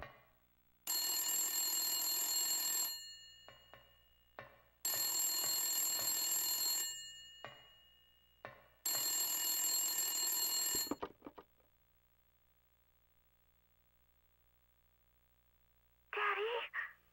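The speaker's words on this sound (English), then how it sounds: "I think this is where the phone is." A telephone in the horror game Silent Hill on PlayStation rings three times, each long loud ring followed by a pause, with a brief voice near the end.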